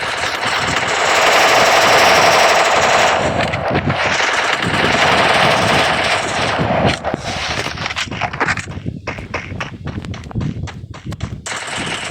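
Loud automatic gunfire in the mobile battle game Free Fire, sustained rapid bursts that break into choppier shots and scattered impacts later on, with no speech.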